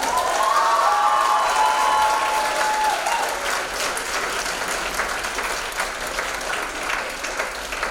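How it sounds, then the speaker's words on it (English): An audience at a school spring musical gives sustained, dense applause that stays loud and steady throughout, with no clear talk over it. "Let's give a round of applause for all those speeches again."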